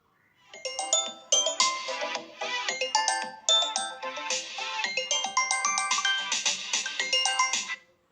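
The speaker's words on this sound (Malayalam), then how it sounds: "ഞാനിവിടെ പ്ലേ സൗണ്ട് എന്നുള്ള ഈ ഒരു ഓപ്ഷൻ നോക്കിക്കഴിഞ്ഞാൽ എൻ്റെ ഫോണിൽ ബെല്ലടിക്കുന്നത് നിങ്ങൾക്ക് കേൾക്കാം" A smartphone rings loudly through a Find My Device play-sound alert, a bright repeating electronic melody of quick chiming notes that plays continuously for several seconds.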